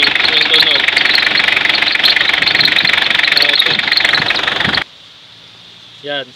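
A car engine idles loudly with a steady high-pitched whine and rattle from a loose fan belt, then cuts off abruptly, leaving near silence and a brief voice.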